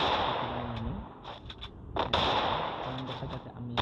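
Desert Eagle pistol shots in the mobile game Free Fire ring out as a few sharp, separate cracks amid game effects and a looping tonal background.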